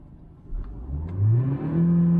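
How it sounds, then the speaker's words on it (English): A Ford Aspire diesel engine with a manual gearbox revs toward 5000 RPM, its pitch climbing in steps from a low rumble to a loud, sustained drone. "revving the motor, revs till 5000 RPM"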